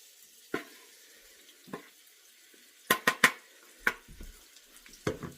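Two pounds of beef stew meat laid into a pan of hot oil, giving scattered sharp sizzling bursts and clattering hits between quiet gaps, close and with no talking.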